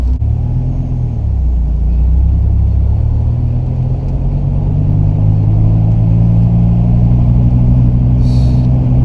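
Dodge Viper SRT-10 V10 exhaust rumbling steadily while driving, a loud, deep continuous drone that rises slightly in pitch as the car pulls, with no talking over it.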